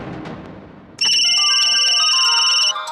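A mobile phone ringtone cuts in abruptly after muffled background noise in a Bollywood movie scene, playing a loud, bright electronic melody that holds steady for nearly two seconds before dropping back.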